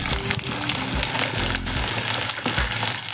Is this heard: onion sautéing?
yes